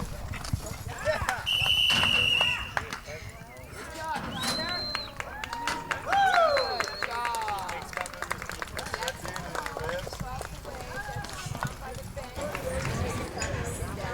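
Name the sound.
horse hooves clip-clopping while running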